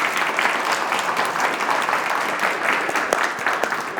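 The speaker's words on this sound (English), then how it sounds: "can we just all have a round of applause for Kiese" An audience at a book talk gives author Kiese Laymon a round of applause. Clapping is full and sustained, with individual sharp claps poking through, and no voices.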